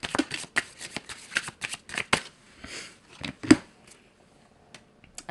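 Tarot cards from an oracle deck shuffled by hand in quick bursts of riffling and slapping, with a few short pauses between, close and fairly loud with no talk.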